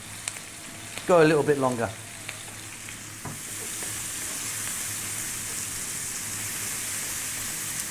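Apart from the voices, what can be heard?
bacon frying and being stirred in a pan on high heat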